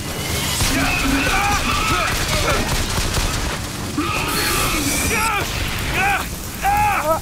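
Gunfire from the video game Bioshock Infinite during a boss fight, loud bursts and crashes running nearly the whole stretch, with excited speech over the top.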